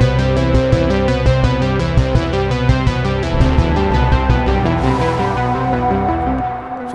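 A synthesized rasp made from noise oscillators in Propellerhead Reason plays inside the Stranger Things theme as a rhythmic, pulsing synth line with steady repeated hits, loud and close, fading into a breathy noise tail near the end.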